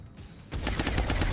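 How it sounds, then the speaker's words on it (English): A rapid burst of gunfire from XCOM: Long War, loud and close, with quick repeated shots that run without a break for about a second, and no talk. "let's get rapid fire on that fellow"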